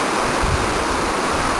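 Fast river rushing past at about 26 miles an hour below a road near Maupin, a steady loud broadband roar of water that stays constant throughout without any voices.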